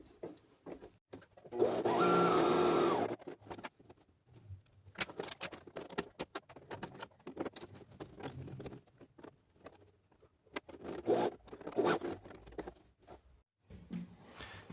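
A home sewing machine stitching a straight buttonhole and a button onto trousers, heard as a steady whirring burst near the start followed by intermittent short stitching runs, clicks and handling noises.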